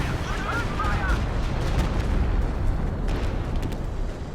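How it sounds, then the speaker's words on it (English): Stuka barrage in Company of Heroes 2, a battle game, heard as a dense rumbling roar of explosions with a few sharp cracks, loud and continuous under a voice. "Stuka barrage forces back the troops"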